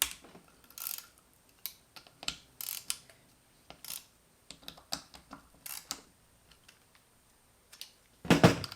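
Ratchet turning out T30 solenoid screws from a Mercedes 722.6 transmission valve body on a workbench, scattered quiet clicks and short ratcheting bursts with pauses, close but light, ending in a louder rattle.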